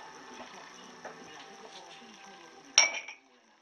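A spoon stirs cinnamon and cocoa in a bowl, with soft, faint scraping and light ticks, then one sharp, bright clink of metal against the dish near the end.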